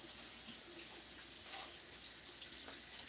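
Tap water runs steadily into a cluttered sink while embossing folders are rinsed under it, a continuous hissy splash of moderate loudness with no voices.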